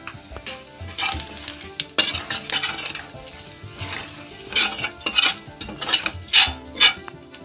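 Bay leaf, whole red chillies and cumin hit hot oil in a pan for a tempering, with repeated clinks and scrapes of a metal spoon against cookware over a light sizzle, close and fairly loud.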